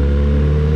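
A motorcycle exhaust drones loud and close in a brief, steady low-pitched burst of engine tone, with no one speaking.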